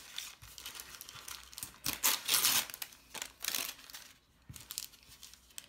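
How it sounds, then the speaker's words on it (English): Tissue stabilizer is torn away from embroidered fabric in short, irregular bursts of papery ripping and crinkling. The rips are close, with brief pauses between pulls. "So I'm just going to gently tear it all away."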